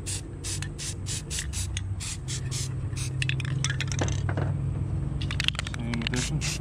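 Short hissing bursts of a spray paint can lay a light coat on a habitat base, a rapid series of close puffs followed by a few longer sprays with faint handling noise between.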